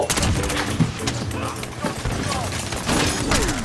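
Gunfire from an AS VAL rifle in Call of Duty: Modern Warfare multiplayer: dense rapid bursts and shots, loud and close, with a voice talking over the shooting.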